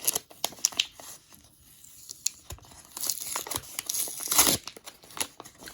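Crinkling paper and several quick snips of scissors, followed by louder rustling and tearing as the envelope is opened.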